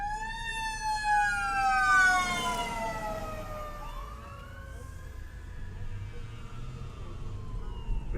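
Fire engine sirens wail from responding Austin fire units on a night call, a loud rising and falling siren close by that sweeps past and fades, over steady traffic rumble.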